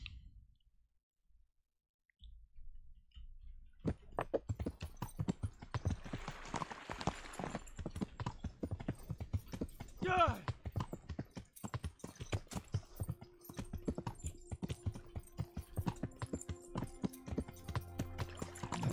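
Horse hooves clip-clop in a steady, rhythmic gait while riding in the medieval video game Kingdom Come: Deliverance. The hoofbeats are fairly quiet and start after a brief near-silent opening, then continue unbroken to the end.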